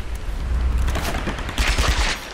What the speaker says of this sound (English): this guy's shooting us from there